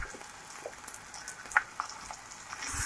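Marinated minced meat tipped into a pan of golden-brown fried onions over a high flame for Ramzan qeema, giving a faint, steady sizzle with a few soft clicks and a louder hiss building at the end.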